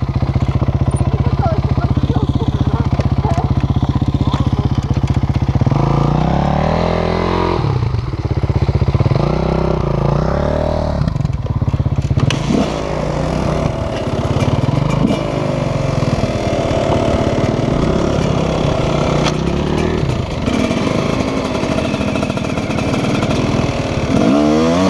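Motocross motorcycle engine during a training ride, loud and close throughout: steady droning, then repeated revving and accelerating with shifting pitch as the bike rides on, with a voice briefly talking underneath.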